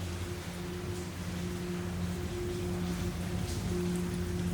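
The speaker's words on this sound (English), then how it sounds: "You can see here, rain dripping down." Steady rain falling and dripping on a surface inside a large abandoned prison building, a continuous even patter with a low hum underneath.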